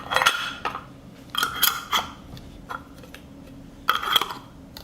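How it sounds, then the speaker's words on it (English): Clean metal lids clink and clatter as they are closed onto glass pickle jars: several sharp, bright knocks in uneven bursts, close by, with quieter handling in between. "We close the jars with clean lids."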